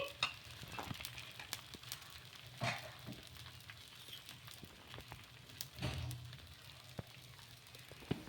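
Puffed rice dosa batter spread thin on a hot pan over high heat gives a steady close sizzle and crackle, with a few scraping stirs and taps of a ladle over the frying hiss.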